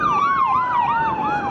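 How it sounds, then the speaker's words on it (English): An emergency vehicle siren wails loudly and close by on a city street in Cairns, its pitch sweeping up and down in a steady repeating cycle with no talk over it. "a bit of sirens and stuff"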